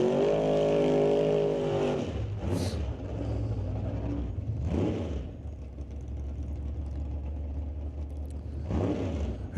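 A Chevelle drag car roars on the track at an NHRA Northwest test-and-tune session, with a loud engine rumble that surges and fades, plus crowd and track ambience underneath.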